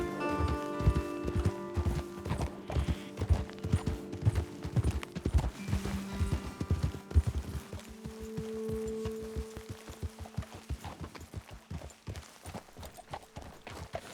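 Steady clip-clop of horse hooves in the video game Red Dead Redemption 2, several animals walking in a regular rhythm, close by and fairly loud, with a soft musical drone underneath.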